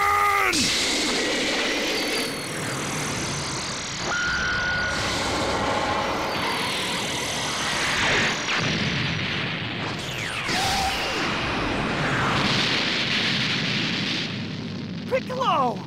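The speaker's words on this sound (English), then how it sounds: "Special beam cannon!" Special Beam Cannon attack from Dragon Ball Xenoverse 2 blasts loudly with sustained roaring energy, booming impacts and rumbling bursts, layered with shouting voices across the whole stretch.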